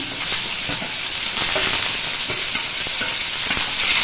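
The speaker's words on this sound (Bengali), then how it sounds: "সব একসঙ্গে ভালো করে ভাজা ভাজা করে নেব।" Steady loud sizzling of onion and garlic frying in hot oil with bay leaf, dried chili and panch phoron, with occasional scraping and stirring clicks throughout.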